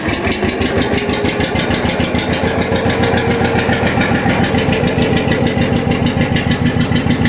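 A 1957 John Deere 520 tractor engine idling close by, a loud, steady, rhythmic putt-putt with an even firing pulse that holds throughout, with no talk over it.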